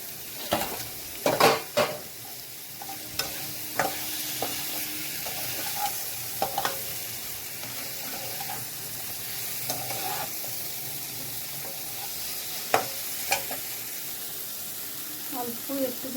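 Katla fish pieces sizzling in a pan of yogurt masala with onion, ginger and garlic, a steady fry under occasional stirring scrapes and utensil knocks, with light kitchen clatter throughout.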